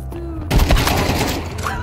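A MAG-7 shotgun fires in Counter-Strike: Global Offensive, a sudden loud blast after a quiet half second, followed by a rough tail of further gunfire and game noise.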